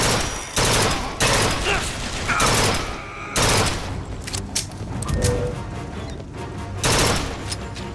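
Automated turret firing in BioShock Infinite: Burial at Sea, loud rapid bursts of gunfire that start and stop in several volleys, with heavy booms and crashes layered in a busy game mix.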